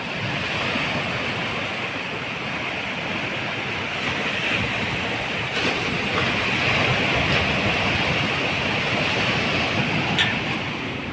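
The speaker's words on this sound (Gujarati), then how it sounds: "સાગર ઘૂગવાટા કરી રહ્યો છે મોટા મોટા લોડ આવી રહ્યા છે" Big sea waves breaking against the shore below Diu Fort, a loud, continuous roar of surf and wind that stays steady from start to finish.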